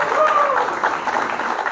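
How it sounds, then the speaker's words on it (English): Audience applause for Abhijit at a school alumni gathering, a brief, steady wash of clapping with a voice heard over it. "Let's give a big round of applause to Abhijit."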